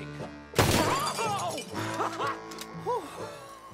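A sharp gunshot shatters a glass bottle in Red Dead Redemption 2, a sudden loud crack and burst of breaking glass, followed by clinking shards and game voices talking over a faint musical background.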